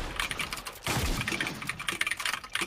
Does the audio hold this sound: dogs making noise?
no